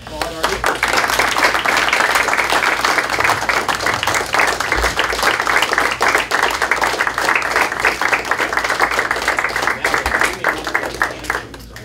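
An audience applauds steadily at a Rochester city council meeting, a sustained wash of many hands clapping for about twelve seconds, fairly loud and even throughout.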